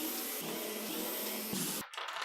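A power screwdriver whirs in bursts while removing screws from a ceiling fan, a close, harsh buzzing motor that stops and restarts several times before cutting out.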